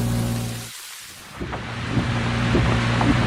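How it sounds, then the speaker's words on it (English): Heavy torrential rain pours steadily in a Shin Hayarigami 2 scene, a dense broadband wash with low rumbling undertones, briefly dipping near silence before the downpour swells back at full, close intensity. "It is no exaggeration to say that it was a torrential rain."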